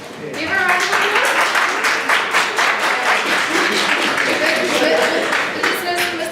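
Audience applause for a student after her first presentation, a dense steady wash of many hands clapping close by, with voices mixed in underneath throughout.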